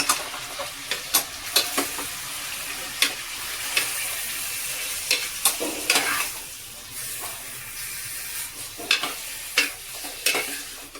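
Half a kilo of mutton frying in oil with browned onion, a steady sizzle punctuated by repeated sharp scrapes and knocks of a spoon stirring the pan, close and moderately loud, with no one talking.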